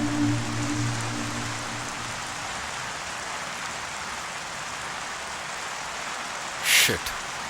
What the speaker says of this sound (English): What a rain today.